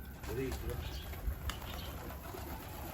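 Mardin pigeons taking their first flight outdoors give soft, intermittent coos and flutters close by, with voices talking over them throughout.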